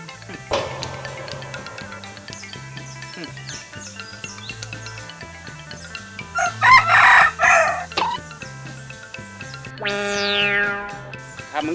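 Chickens on a rural Thai farm, a rooster crowing loudly with clucking around it, set against music and voices that run throughout.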